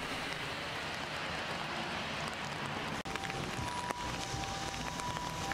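Rain falling on an umbrella while walking the streets of Hachioji, a steady dense patter that stays constant and close throughout, with no talk.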